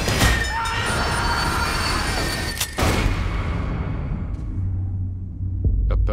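A train rolls steadily along the rails with a loud, continuous rumble and metallic hiss, the high wheel noise fading toward the end while a low rumble carries on.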